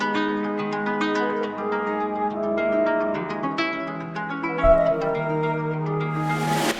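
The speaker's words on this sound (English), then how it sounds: "So here is the melody sample I want to flip in this video." A melodic sample loop meant for flipping into a trap beat: sustained tonal notes and chords with plucked accents play alone at moderate level, with a brief low thump and a rising noise swell at the end.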